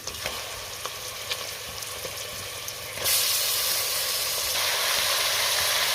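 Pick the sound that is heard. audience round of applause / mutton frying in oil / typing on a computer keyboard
mutton frying in oil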